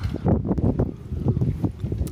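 Strong gusty wind buffets the microphone in low, rumbling bursts, loud and uneven throughout, outdoors in England during racing pigeon training.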